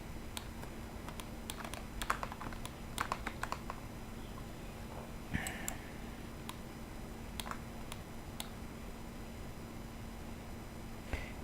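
Computer keyboard keys are pressed in irregular bursts of crisp, close clicks, several quick taps clustered together and then scattered single presses over a faint steady hum, with no talking.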